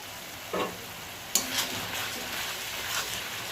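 Doi potol, pointed gourd cooked with ground spices in a pan, sizzles softly while a utensil scrapes and stirs it in a few quick strokes, quiet and close.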